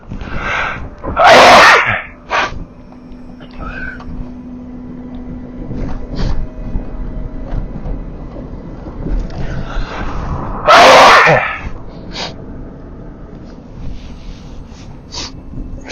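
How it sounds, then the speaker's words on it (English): Two loud, close sneezes about nine seconds apart during an outdoor hike, each a sharp burst, with faint sniffling and breathy noise between them. "A lot of sniffling and sneezing today in today's episode."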